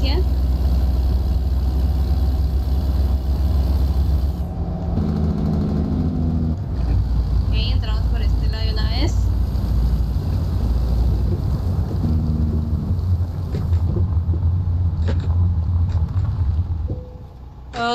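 Kenworth W900 truck in American Truck Simulator, its engine running with a steady low rumble and idle that shifts in pitch, while someone talks over it.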